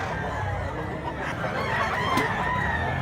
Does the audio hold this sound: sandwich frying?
no